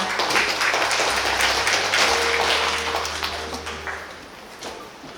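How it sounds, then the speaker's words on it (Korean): Applause from a forum audience in a hall greeting a speaker, a steady dense patter of many hands that gradually fades, with a low hum beneath. "역시 박수로 환영해 주시기 바랍니다"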